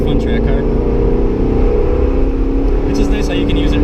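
A C6 Corvette Z06 lapping a race track produces a loud, steady low engine drone that runs through the whole stretch, with a voice talking over it.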